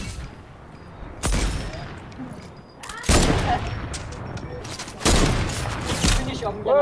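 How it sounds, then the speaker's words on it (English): Video-game gunfire in a Fortnite trios match comes as several sharp bursts of shots spread across a few seconds, some loud and close and some more distant, while players talk between them. "People shooting behind us as well."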